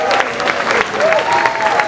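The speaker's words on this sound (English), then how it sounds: "let's clap it up for lighting for always making it happen because they make it work." At a live variety show, an audience claps for the lighting crew in a brief, close burst of applause mixed with light cheering.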